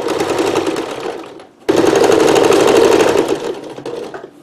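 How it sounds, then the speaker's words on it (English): A sewing machine runs steadily, stitching lace onto a Dickies workshirt apron, a loud, close, continuous whir that slows briefly, pauses for a moment, then resumes at full speed with no talk over it. "we're going to sew up back up the other side of the lace"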